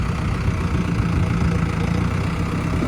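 A tractor engine idles steadily at close range, a continuous low diesel rumble with even vibration and no breaks throughout, with no voices over it.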